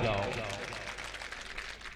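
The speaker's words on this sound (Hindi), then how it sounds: "जरा जोरदार तालियां बजाओ" A mushaira audience gives dense, sustained applause, a steady wash of many hands clapping that fades slightly toward the end after a brief voice at the start.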